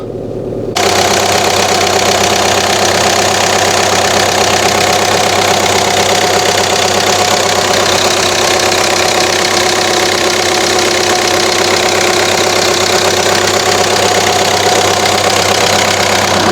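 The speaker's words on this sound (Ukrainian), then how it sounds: "Мотор працює ідеально." A Fabia diesel engine, running smoothly, idles steadily for the whole stretch, a constant low rumble with a rattly knock, loud and close, with no talking.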